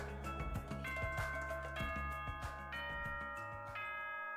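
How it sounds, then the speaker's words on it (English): A school bell chime in the video game Danganronpa 2, a sequence of ringing bell tones that step through a melodic pattern with sustained overlapping notes, moderately loud and alone. "Is that school bell just now?"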